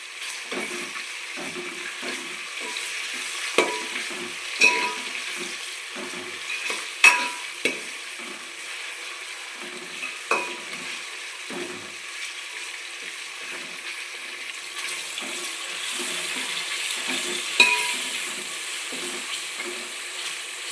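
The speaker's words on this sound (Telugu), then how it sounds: "పచ్చిమిరపకాయలు అయితే నాలుగు వేసుకుందో నేను ఇలా ఇలా ఘాట్లు పెట్టి వేస్తానండి" Green chillies frying in oil in a pan for chicken pulao with tomato, a steady quiet sizzle with occasional stirring clicks and scrapes, no talk.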